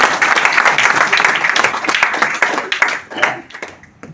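Loud, dense applause from a crowd at an RCM business meeting, many hands clapping together, thinning out toward the end.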